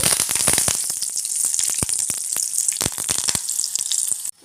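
Curry leaves hitting hot oil in a pan of garlic for an eggplant gojju, a bright crackling sizzle with sharp pops, close and loud, dropping off abruptly at the end.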